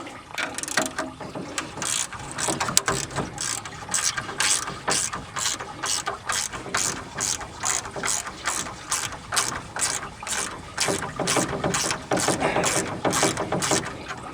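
Small ratchet wrench clicking steadily as it turns bolts back into the engine of a 1987 Ford F150 inline six, a rapid, even run of close mechanical ratcheting strokes with no talk.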